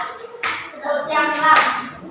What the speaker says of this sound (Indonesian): mari kita tepuk semangat dulu